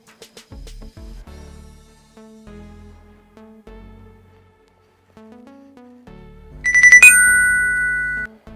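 Phone alert tone from a FOBO Bike 2 motorcycle tire pressure monitor warning of a low tire: a sequence of short electronic melodic notes ending in a louder, higher bright chime, close and clear with no voices.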